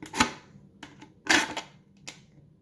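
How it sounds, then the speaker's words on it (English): Scissors cut into a plastic 2-liter bottle, giving a few sharp, crisp snips and crackles of thin plastic at close range, with quieter rustling between the cuts. "I'm going to stick my scissors in it"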